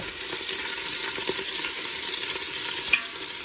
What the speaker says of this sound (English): I want to get it seared on the outside